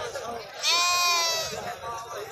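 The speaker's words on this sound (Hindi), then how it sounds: "और ये खड़ी हुई है मुंद्री भेड़, मुंद्री शिप्स।" A sheep at a cattle market in Dera Ghazi Khan gives one clear, wavering bleat up close, heard beneath someone talking.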